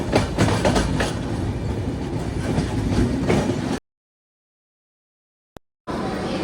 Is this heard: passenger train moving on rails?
yes